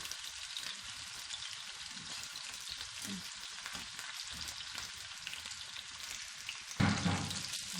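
Eggplant slices fry in plenty of oil on a tawa, a steady close sizzle that runs throughout, with a brief louder crackle and stir near the end.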